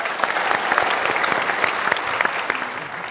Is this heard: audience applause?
yes